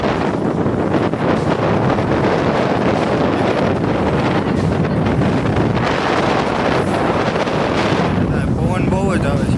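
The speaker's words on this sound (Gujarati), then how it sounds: "પવન બહુ જ આવે છે" Strong wind buffets the microphone outdoors in a loud, continuous roar that never lets up, with a voice faintly surfacing near the end.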